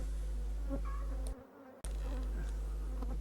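Honey bees buzz steadily around frames of honey at an apiary in Côtes d'Armor, a dense close insect drone with individual bees zipping past, briefly cut off before resuming.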